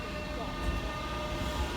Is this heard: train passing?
yes